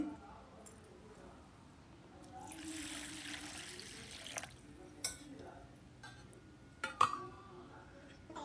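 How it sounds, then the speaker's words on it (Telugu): Water is poured over lentils in a vessel for a few seconds, followed by light clinks and splashes as they are washed. "రెండుసార్లు నీళ్లు పోసి కడిగేసుకొని ఆ నీళ్ళన్నీ వంచేసుకొని"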